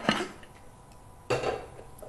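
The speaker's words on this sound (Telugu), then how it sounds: "ముందుగా స్టవ్ వెలిగించుకొని కుక్కర్ పెట్టేసుకుందాం" A metal pressure cooker set down on a stovetop, two distinct clanks about a second apart, close and fairly loud, with a faint rattle between them and no talking.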